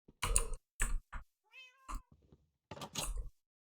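A cat meowing in the Minecraft video game, a few short meows standing alone among scattered clicks and keyboard taps, quiet overall.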